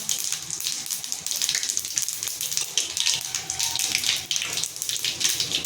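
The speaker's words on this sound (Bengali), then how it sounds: "গরম তেলে দিয়ে দিচ্ছি সর্ষে দিয়ে দিচ্ছি শুকনো লঙ্কা" Mustard seeds and dried chilies sizzle and crackle in hot oil for a drumstick-leaf dish, a dense, continuous frying hiss with small pops, close and fairly quiet, with no talk.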